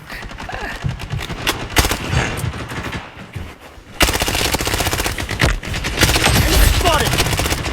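Rapid automatic gunfire in the video game Blood Strike, with dense repeated bursts that continue almost without pause, some louder than others, under a player's occasional speech.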